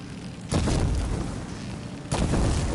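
Two heavy booms from mine blasting in Horizon Forbidden West burst out a couple of seconds apart, each a broad, loud explosion over a rumbling background.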